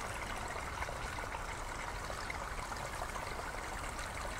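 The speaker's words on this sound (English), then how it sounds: "we can still hear the roar of the main glen water rushing away, hissing through the trees." A glen stream roars and hisses as it rushes through trees, a dense, steady, close wash of running water with no pauses.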